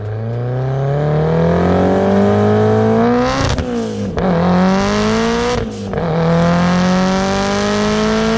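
A 1992 Toyota MR2 fitted with a 750 hp K-series engine swap revs loudly and up close, rising in pitch through two quick lift-off breaks before climbing again, with no talking over it.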